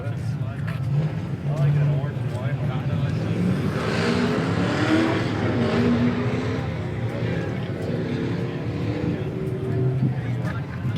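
Truck ripping around an autocross track at a C10 Nationals event in Nashville, Tennessee, its engine droning and revving steadily for several seconds amid crowd noise and people talking nearby.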